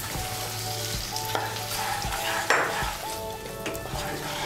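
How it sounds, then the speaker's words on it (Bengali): A ground spice paste with chopped tomato sizzles and is stirred in a pan for cabbage kofta curry, with a dense continuous fry and a few spatula knocks and scrapes close by. "এখন আমি মশলাটাকে ভালো করে কষিয়ে নেব।"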